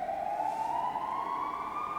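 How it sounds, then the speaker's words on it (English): An emergency vehicle siren wails from outside, a single steady tone slowly climbing in pitch, moderately loud and heard alone over faint low rumble. "This is like the third siren today since I've started filming this video."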